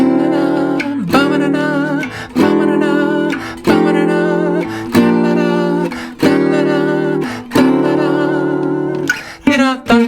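Gypsy jazz guitar plays an intro, repeated strummed chords with bright ringing attacks in a steady phrased pattern, each chord decaying before the next, close and clear with no talking.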